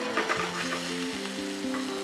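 Olive oil sizzling steadily in a hot pan, a continuous close crackle and hiss with faint scraping of stirring over it, no voices.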